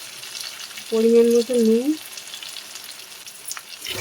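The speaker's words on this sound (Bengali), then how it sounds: "দিয়ে আবার ভালো করে ভেজে নেব।" Turmeric powder, chili powder, green chilies and salt fry in hot oil for a Bombay duck chorchori with potato and eggplant, giving a steady, soft sizzle under a short spoken phrase.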